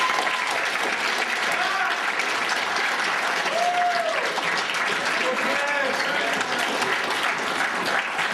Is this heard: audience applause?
yes